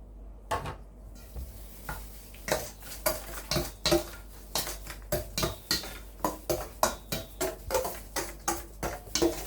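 Pork being mixed by hand with seasonings such as sesame oil and sauce in a dish for Thai sun-dried pork, giving a steady series of close, rhythmic clinks and wet slaps against the bowl with no talking.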